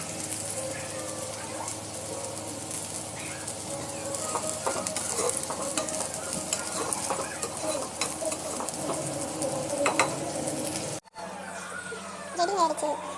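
Mixed vegetables sautéing in a pan, a continuous sizzle with frequent stirring scrapes and utensil clatter against the pan, with a voice talking over it before a brief cut near the end.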